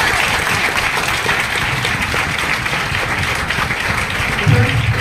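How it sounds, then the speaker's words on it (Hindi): Loud, sustained audience applause at a program event fills the room, a steady dense wave of many hands clapping together with no break, close and continuous throughout. "एक बार सर के लिए जोरदार ताली होनी"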